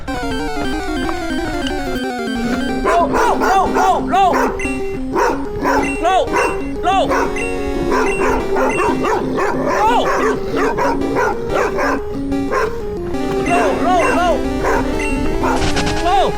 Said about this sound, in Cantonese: 晨早流流啲狗特別惡㗎